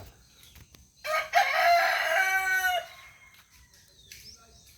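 A single loud crow from a young rooster (stag), drawn out and harmonic, rising then holding before cutting off, with quiet background afterward.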